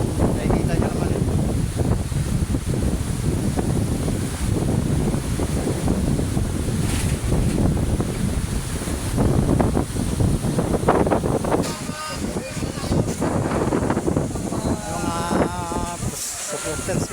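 Strong storm wind roars and buffets the microphone nonstop at close range, loud and unbroken, with a dull surf-like rumble beneath it.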